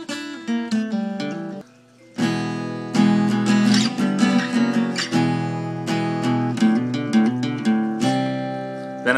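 An acoustic guitar plays a song intro, with single-note runs leading into strummed chords. The playing is close and steady, with a short pause before fuller strums continue.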